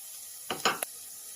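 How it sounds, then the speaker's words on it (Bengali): Capsicum sizzling in a frying pan while being stirred, with three short bursts of scraping and hissing over a quiet background. "এরপর ক্যাপসিকামটা ভেজে দিয়ে"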